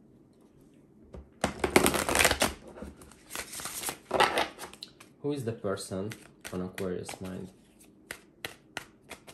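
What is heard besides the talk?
shuffling tarot cards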